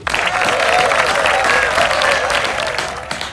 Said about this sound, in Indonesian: Beri tepuk tangan untuk usaha dan keberanian dari Boy dan Lucky.